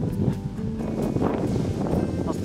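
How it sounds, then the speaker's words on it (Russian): Strong wind buffeting the microphone in a sheltered rocky skerry inlet of Lake Ladoga, Karelia, at a kayak lunch stop: dense, continuous low rumbling gusts with rustling, loud and close throughout. "но все равно очень сильный ветер даже здесь"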